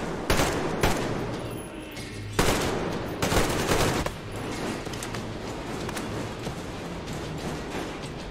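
Automatic gunfire from the video game Metro Exodus: loud, sustained rapid bursts fill the scene, punctuated by heavier booming shots, with no voices over them.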